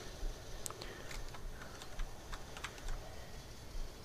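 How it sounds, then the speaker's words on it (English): Keys clatter on a mechanical keyboard fitted with Cherry MX switches, a quiet, irregular run of clicking strokes with a few sharper presses, heard alone. "keyboard with the Cherry MX switches"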